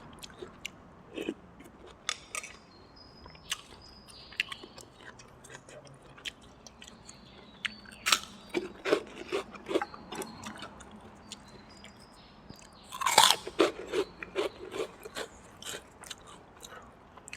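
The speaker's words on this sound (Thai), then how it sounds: "อันนี้ถั่วงอกสด กินกับถั่วงอกสดพี่น้อง" Close, wet chewing and crunching of fresh bean sprouts eaten with thin rice noodles in a pork waterfall noodle soup, with crispy garlic and crunchy potato crisps, steady bites over many seconds and no talking.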